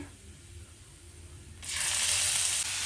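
Onions and seeds hit hot oil for an egg curry masala, starting a sudden loud, steady sizzle after a quieter opening that holds close and constant to the end.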